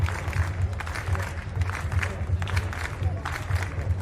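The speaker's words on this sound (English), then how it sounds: "Just asking the crowd for more noise." Stadium crowd at an outdoor athletics meet, the Continental Tour Silver event in Košice, with steady clapping and cheering throughout, rhythmic claps rising as the crowd is urged to make noise, with a commentator's voice faintly mixed in.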